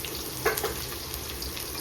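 Onion drops into hot tempering oil with curry leaves and mustard seeds for kadhi, giving a quiet, steady frying sizzle with a brief louder crackle near the start.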